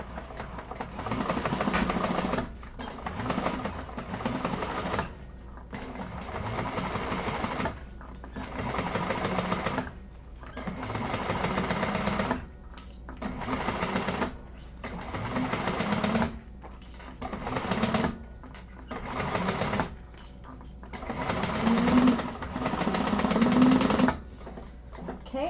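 A sewing machine stitches handbag pieces in bursts of rapid mechanical whirring, each run lasting a few seconds and separated by short pauses, close and steady, with no talking.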